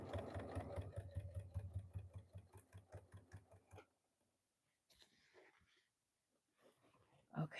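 A sewing machine top-stitches denim for a corset dress, running in a fast, even, close-up whir for about four seconds, then stopping. Faint handling noises follow.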